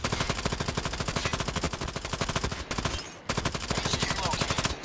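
Rapid automatic gunfire in Call of Duty: Mobile on the Scrapyard map, a loud, dense stream of evenly spaced shots that breaks off briefly before resuming at the same fast rhythm.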